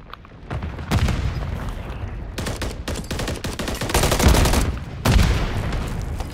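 Dense Call of Duty MW3 multiplayer firefight: rapid bursts of gunfire crackle almost continuously, punctuated by a couple of heavy booming grenade explosions around the middle and end, loud and close with no talking.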